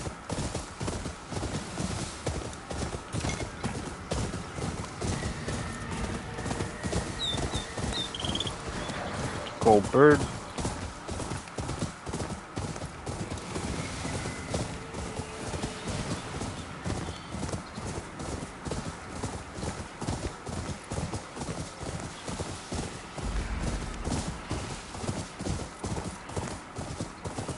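Horse hooves clip-clop steadily and nearly continuously at close range while riding in the video game Ghost of Yotei, with a brief whinny near the middle and talk running over the top throughout.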